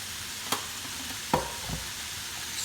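Cabbage bhaji with added salt is stirred in a hot pan under a steady, close sizzle of frying, with a couple of soft spoon knocks against the pan.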